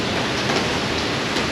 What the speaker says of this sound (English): So the rain seems to be settling down,